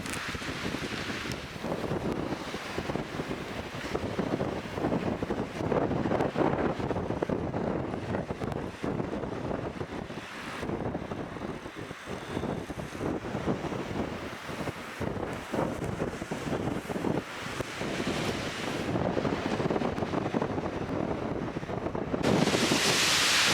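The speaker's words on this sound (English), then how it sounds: "30-mile-an-hour winds at least" Strong, gusty wind of at least 30 miles an hour roars and buffets the microphone continuously on a snowy mountain day at Beech Mountain, North Carolina, surging and easing in loud waves with a rushing, blustery sound throughout.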